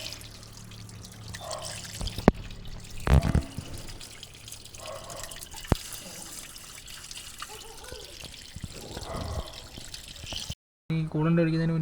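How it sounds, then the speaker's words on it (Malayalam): A hose sprays water over the radiator of a Hyundai Accent, making an uneven close splashing and trickling with a few sharp knocks, then cuts off briefly before resuming. "ഇനി ഈ പൈപ്പ് വെച്ച് നമുക്ക് റേഡിയേറ്റർ നൈസായിട്ടൊന്ന് കഴുകിയെടുക്കാം"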